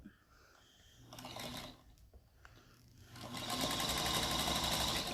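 A sewing machine stitches a seam on an eight-point pinwheel star quilt block, its steady, rapid mechanical whir running in short bursts and then a longer continuous run, close up.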